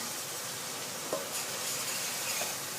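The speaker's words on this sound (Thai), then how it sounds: "ในนี้ก็มี น้ำมันพืช กระเทียมผักชี พริกไทยนะคะ ผัดให้หอมเหลืองเลยจ้า" Garlic, coriander and pepper stir-fry in vegetable oil for a Thai chilled pork ear dish, giving a steady close sizzle with a faint scrape or two of stirring.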